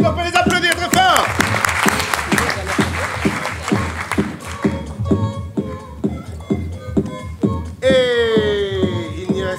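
An audience at an improv theatre festival in Paris claps loudly in a steady rhythm, with cheers and voices mixed in and a shout near the end.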